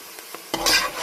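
Half a kilo of minced meat hits a hot pan for Syrian-style okra and rice, bursting into a loud broad sizzle after a few quiet scrapes and stirring clinks.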